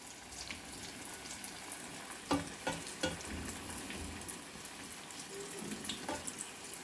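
Shaam Savera kofta balls deep frying in hot oil: a quiet, steady sizzle with a few brief stirring clatters in the middle and no talking.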